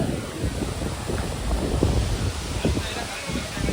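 Strong wind roars and buffets the microphone continuously at Old Kutrallam Falls, with rushing waterfall water in the background; a voice may be faintly buried beneath.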